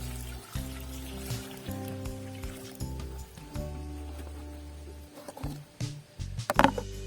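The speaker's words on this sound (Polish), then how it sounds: "teraz zalewam to wodą do pełna" Water runs steadily into a bucket of finely chopped comfrey being topped up for a fertilizer brew, a low continuous pour with shifting tone, ending in a few splashy, sloshing sounds; no talking.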